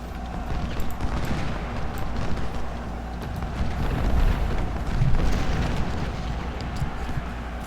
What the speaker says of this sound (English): We're even hitting him with some canister shot here.